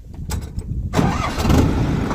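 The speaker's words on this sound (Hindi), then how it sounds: "अभी मैं स्टार्ट करूँगा ट्रैक्टर को।" A tractor engine, used with a cultivator for garlic fields, cranks briefly, then catches about a second in and settles into a loud, close, steady rumbling idle.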